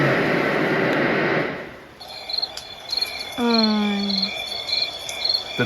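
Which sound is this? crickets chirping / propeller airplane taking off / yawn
crickets chirping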